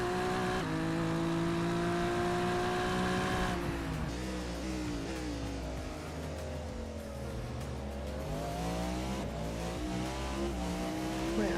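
Race cars in a Sebring practice session of a racing video game roar continuously, engines rising and falling through gear shifts and revs as a car laps slower AI traffic; loud and close, with no talk.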